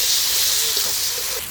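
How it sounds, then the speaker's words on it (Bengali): Ginger-garlic paste hits hot fried onions in a pan for a home-style country chicken and bottle gourd curry, making a loud, even hiss of sizzle and steam that stays steady for a moment. "পেঁয়াজ ভাজা হয়ে গেছে, এখন দিয়ে দিব আদা রসুন বাটা"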